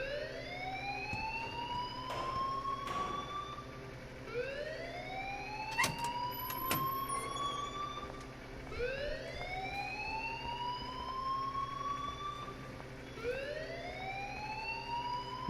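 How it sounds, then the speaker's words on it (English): Alarm going off in the video game Life is Strange, a repeating rising electronic siren wail sweeping upward about every two seconds, steady and moderately loud, with a few sharp clicks mixed in. "please turn off that alarm since that's your job"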